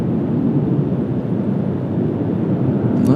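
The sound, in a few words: aircraft approaching runway 19 center at Washington Dulles airport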